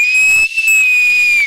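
A single loud, sharp whistle blast, close and clear, at a televised dance competition stage show, held for over a second with a brief break near the start.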